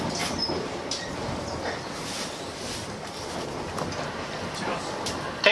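Steady low rumble and rushing hiss inside a JR East 485-series rapid train, the Resort Yamadori running as the Tanbara Lavender, with a voice talking over the continuous ride noise.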